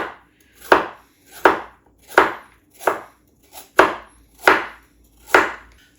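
A knife chops carrots steadily on a cutting board, eight crisp evenly spaced strikes, close and clear with no speech.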